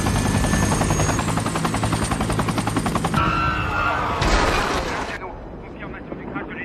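Helicopter crash scene from a French action film, with dense rotor-like pulsing and rattling gunfire bursts, then a loud crash-like impact with a spray of debris, ending on a quieter rumble as voices speak over the action.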